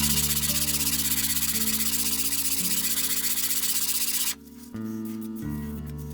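The sole of a Sargent rebate plane is rubbed back and forth on 100-grit abrasive, making a steady, close, continuous scraping hiss over a constant low background hum, with a brief dip near the end.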